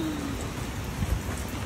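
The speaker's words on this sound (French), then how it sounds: "Non mais il y a des gouttes sur la fenêtre. La pluie." Rain falling and drops striking a window: a soft, steady patter of faint drizzle heard indoors, with no voices.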